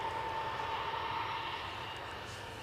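An ATR turboprop arriving at Newcastle Airport gives a steady, fairly loud propeller drone with a distinct whining tone, sustained throughout and easing slightly toward the end.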